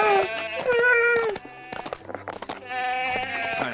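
Goats in the Lego The Hobbit video game bleat loudly in a run of wavering, nasal cries, first a long call, then a choppy stretch, then another long bleat.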